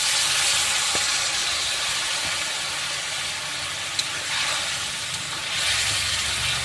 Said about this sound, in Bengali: সবজিটা যে সেদ্ধ করে রেখেছিলাম এটা দিয়ে দিব